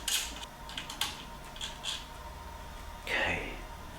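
Small metal nuts and washers being fitted by hand onto the frame of an A0 iDraw V2 pen plotter, a few light close clicks and taps spread across the moment, with a soft scrape near the end.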